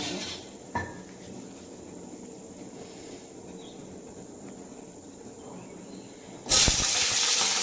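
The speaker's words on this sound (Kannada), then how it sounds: "ಮೆಣಸಿನ್ಕಾಯಿ ಹುರ್ಕೊತಿದ್ದೀನಿ" Green chilies sizzle and hiss steadily in hot oil in a pan, a continuous close crackle with one brief knock early on and a louder burst of spitting near the end.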